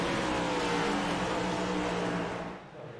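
A pack of race cars at Charlotte Motor Speedway revs loudly together in an iRacing restart, a dense roaring engine drone with rising whine that holds steady before easing off at the end.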